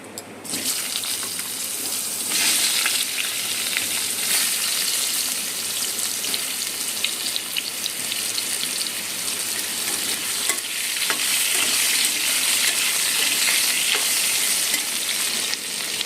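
Cubed potatoes, bay leaf and whole spices fry in hot oil, giving a dense, continuous close sizzle and crackle that runs unbroken for the whole stretch, with occasional brief stirring clatters and sputters rising above it.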